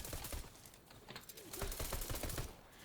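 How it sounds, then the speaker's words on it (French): Rapid bursts of gunfire in the Fortnite video game, crackling shots in quick clusters, faint and distant amid a busy mix without speech. "Il nous tire dessus, il nous tire dessus."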